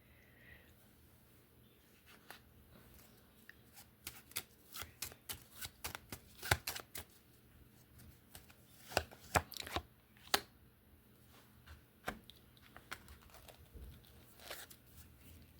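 Tarot cards shuffled close by in a quiet room, with a long run of quick papery riffles and soft slaps that bunch into denser bursts, faint and without talk.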